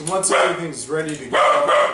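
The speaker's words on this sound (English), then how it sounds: "that's just my dog." A Labradoodle barks repeatedly in a home kitchen, with several sharp, close barks mixed in with a person talking nearby.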